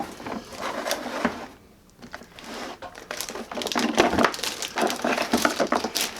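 Hard plastic carrying case of a cheap vibrating suction cup for big tile installation being handled and opened, with a run of sharp clicks, knocks and rattles at close range, briefly pausing before busier clatter.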